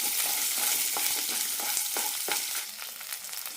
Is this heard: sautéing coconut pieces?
yes